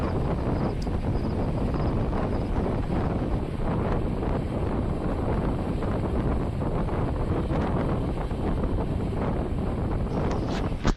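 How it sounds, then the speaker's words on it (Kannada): Steady, loud rushing wind buffets the microphone aboard the Karnataka Express running from Mantralaya to Bangalore, a constant roar with no break and no talking. "ತಣ್ಣು ಹೊಡಿತೈತೆ ಗಾಳಿ ಮಾತ್ರ"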